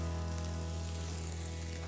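Mild chili peppers and ginger sizzle steadily in a hot pan, a continuous close crackling hiss with no pauses.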